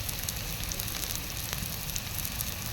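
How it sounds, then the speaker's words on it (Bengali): Cumin, coriander, chili and turmeric powders frying with tomato in a pan for ghugni made with mutton fat, a steady close sizzle with small crackles, no talking. "মশলা ভালো করে কষে নেব।"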